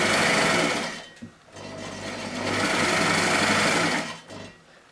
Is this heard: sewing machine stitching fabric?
yes